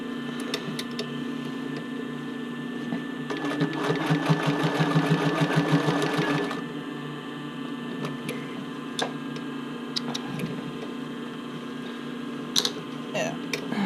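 A sewing machine stitches a back stitch on a sports bra strap in a fast, steady burst of mechanical clatter lasting a few seconds, then stops, leaving light clicks and a quiet room hum.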